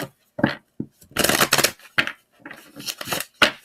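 Tarot cards being shuffled by hand, with a series of crisp riffling and slapping bursts of varying length, close and fairly quiet, with no talking.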